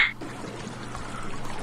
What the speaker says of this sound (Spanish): Una duchita relajante.